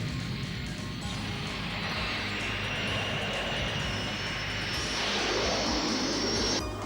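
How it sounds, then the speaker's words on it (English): Cartoon drone fighter aircraft droning overhead, a sustained whine and rumble that swells louder toward the end as the craft pass close. "Here come our drone fighters."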